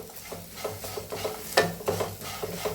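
Arbi (taro) pieces frying with chili powder are stirred in a pan, giving a low sizzle with repeated scraping strokes of a spoon at an irregular rhythm, close and alone.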